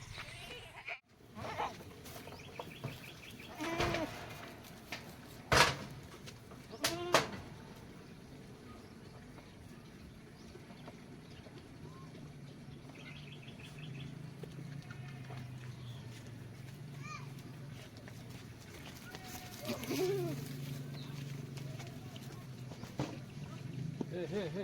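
Goats bleat near an aquaponics garden setting, a few bleats scattered among knocks and rustling, with a person talking at times and steady background noise.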